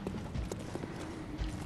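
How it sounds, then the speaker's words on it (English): Footsteps in the video game Bloodborne, a string of muffled, uneven thuds over a dense, noisy game ambience, heard faintly without talking. "Footsteps."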